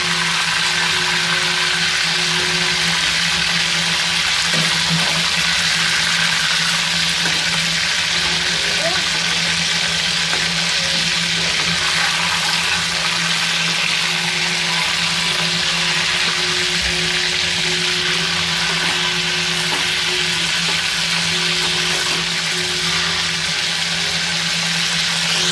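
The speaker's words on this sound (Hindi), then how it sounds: "ये देखिए, अब ये भून के तैयार हो गए, फ्राई हो गए अच्छे से" Chicken pieces frying in a pan, a steady loud sizzle that holds without a break for the full stretch, with a voice talking over it at times.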